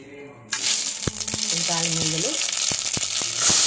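Tempering spices dropped into hot oil in a pot start a loud crackling sizzle about half a second in, with sharp pops and metallic clinks, a brief tonal ring, and the frying continuing to the end.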